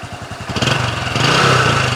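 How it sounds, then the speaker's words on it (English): A Honda Super Cub C90 motorcycle with 47,000 km on it idles close by with a steady, quiet putter. The pulses are tight and even, and the note builds a little louder partway through. "It's just such a quiet engine."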